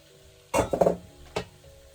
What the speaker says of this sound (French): je vous fais entendre les pommes de terre qui commencent à rissoler un peu là